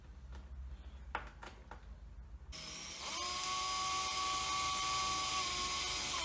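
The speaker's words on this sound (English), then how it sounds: "it's not always a good idea to use a battery operated screwdriver" A battery-operated screwdriver drives coarse-thread screws, about an inch long, into wood for a fishing tackle box, a steady whining motor hum after a few quiet knocks and taps.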